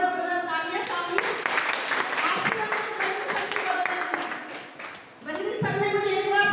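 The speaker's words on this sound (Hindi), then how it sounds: "मैं अपने गुरुदेव बल्ली सर के लिए बहुत बहुत तालियां चाहूंगी" An audience claps in a hall, a broad patter of many hands rising between stretches of someone speaking through a microphone, loud and reverberant, dipping briefly before her voice returns.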